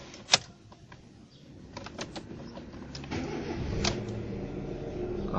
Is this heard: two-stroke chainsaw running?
no